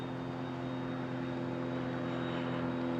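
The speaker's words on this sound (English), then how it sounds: "The aeroplane going over." A fixed-wing aeroplane passes high overhead along the Esplanade in Innisfail, Australia, giving a steady, continuous distant engine drone with a low hum that holds level throughout, and no voices.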